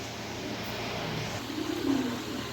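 Lotan pigeons, a fancy breed, coo softly in a low murmur against steady background noise, with a slightly clearer burst of cooing near the end.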